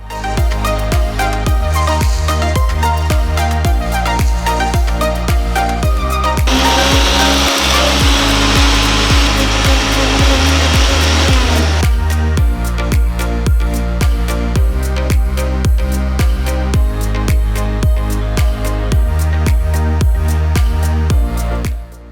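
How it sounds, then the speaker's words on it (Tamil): A mixer grinder whirs harshly for several seconds as it grinds roasted drumstick leaves into soup powder, its rough buzzing rising from under loud, steady rhythmic music. "மிக்சி ஜாரில் போட்டு நைஸாக அரைச்சி"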